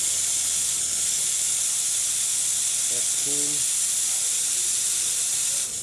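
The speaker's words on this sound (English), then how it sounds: "let me test the steamer." A serviced Lelit Mara X espresso machine's steam wand hisses in one loud, continuous, close rush that runs almost the whole time, with a brief spoken remark underneath.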